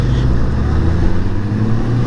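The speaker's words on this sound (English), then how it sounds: "Oh God, those trucks are noisy." Loud, steady engine and road roar from noisy trucks passing on a highway, heard close up during a Goldwing trike ride.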